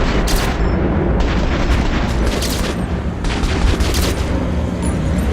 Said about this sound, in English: I'm shooting my friends.